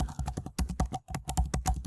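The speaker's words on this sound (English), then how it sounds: "let's say I'm typing here" Rapid typing on a computer keyboard, close and fairly loud, with a steady flurry of key clicks broken by one brief pause partway through.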